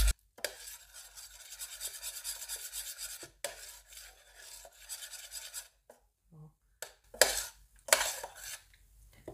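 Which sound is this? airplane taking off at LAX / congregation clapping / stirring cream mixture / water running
stirring cream mixture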